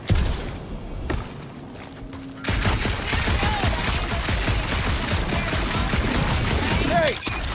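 Rapid, dense bursts of gunfire from shooting in the video game Marvel's Guardians of the Galaxy, kicking in after a quieter, darker opening and continuing loud and sustained to the end, with voices faintly beneath.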